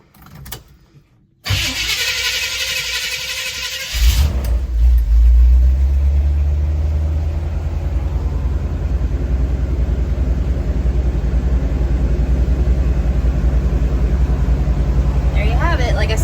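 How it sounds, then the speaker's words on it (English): A 1973 Chevrolet Blazer engine cold-starts after a moment of quiet, with the starter catching and then a loud, steady low idle rumble that carries on, close up; talk can be heard over part of it. "you guys can truly see this is a cold start"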